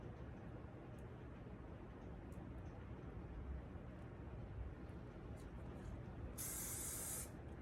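A short, loud burst of aerosol spray hisses near the end, over a steady low background rumble.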